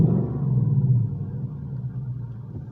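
A 2018 Ford Mustang GT engine rumbles low and deep, swelling briefly under a light press of the throttle before settling back toward idle.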